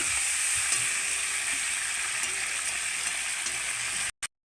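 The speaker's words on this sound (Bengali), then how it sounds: "মাছের মাথা সব একসাথে ভালো করে ভেজে নেব" Fish heads fry in oil for a potato and fish curry, a loud, close, continuous sizzle with occasional stirring, ending in a sudden cutoff and one short burst.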